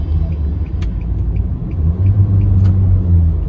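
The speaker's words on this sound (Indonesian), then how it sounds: "Saya coba tes gas dikit gak apa-apa ya mas ya?" A 2014 Nissan Grand Livina 1.5 CVT engine revving briefly during a test drive, a low rumbling swell that rises in the second half, heard from inside the car.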